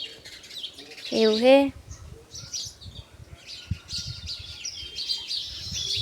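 A flock of sparrows feeding near a village farmhouse gives scattered high chirps and tweets, moderately near, with a person speaking briefly over the birdsong.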